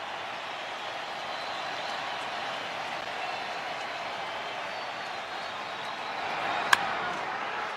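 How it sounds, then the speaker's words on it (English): A stadium crowd at a Dodgers vs Reds wild card baseball game keeps up a steady, distant roar and murmur with the bases loaded, with one brief sharp knock near the end. "And the crowd urging on"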